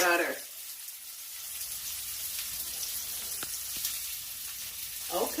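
A steak sizzles in a frying pan with a steady, quiet hiss and occasional small pops. A voice speaks briefly at the start and again at the end.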